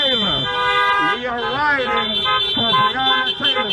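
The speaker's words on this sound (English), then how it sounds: "Blow your horns for Breonna Taylor!" Car horns honk at a street justice rally, sustained tones and wavering blares stacking over one another, loud and continuous across the crowd.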